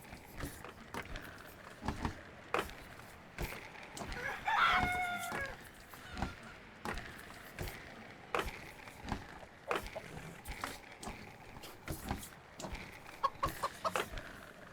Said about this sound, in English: the sound of those chickens clucking next to you all day long might send you slightly mad